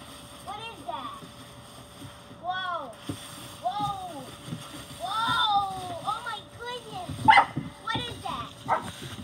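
A small red cattle dog barks and yips repeatedly at a broom in bursts of high, sharp calls with some whining, close by, while people talk and exclaim over it.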